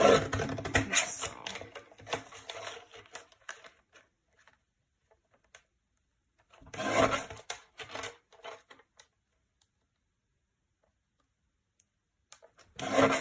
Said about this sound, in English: Just carefully trimming around.